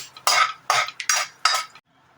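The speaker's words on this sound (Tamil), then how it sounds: "இப்போ இதெல்லாம் பட்டை வகை போட போகிறேன்." Whole spices such as nutmeg, stone flower, star anise, bay leaf, cinnamon and cloves go into a pan for green bean pulav, making four or five close, bright metallic clinks and rattles in quick bursts with no talking.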